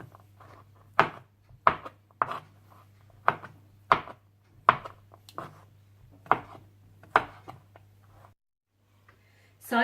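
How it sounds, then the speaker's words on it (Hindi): Knife chopping grilled chicken for a Mexican grilled chicken salad into cubes or julienne strips, about a dozen sharp, evenly spaced chops on a board, close and clear over a low steady hum that cuts out near the end. "चिकन को थोड़ा ठंडा करने के बाद आप इसे जूलियन या क्यूब्स में काट लीजिए।"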